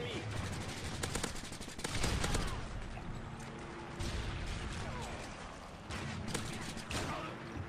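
Gunfire in Call of Duty: Modern Warfare III, with a sniper among the shooters, comes as bursts of rapid, crackling shots. Some bursts are dense and some sparse, over constant game noise, with players talking in French.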